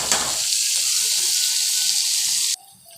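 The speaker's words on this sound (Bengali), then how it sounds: "এই যে, পেঁয়াজগুলো একটু ভাজা হোক, পেঁয়াজটা ভেজে কমে যাবে" Onions frying in a pan give a loud, steady sizzle with no talk, which stops abruptly near the end and leaves a quieter hiss.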